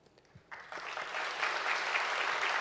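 An indoor audience at Handong Global University's presidential inauguration ceremony breaks into applause that starts thin and swells into steady, fairly distant clapping.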